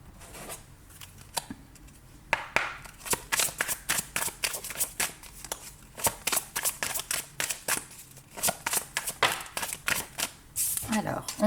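Tarot cards are shuffled close by in a long series of quick, crisp riffles and slaps, with a voice speaking softly at times.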